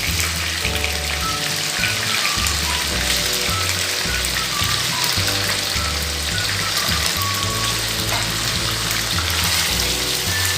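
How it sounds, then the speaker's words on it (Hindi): Pieces of paneer fry in refined oil with a constant, busy sizzle and a patter like rain, dense and close throughout. A low humming tone runs beneath the frying. "में हम पनीर के जो टुकड़ा काट कर रखने छे वो डाल कर फ्राई कर लेबे।"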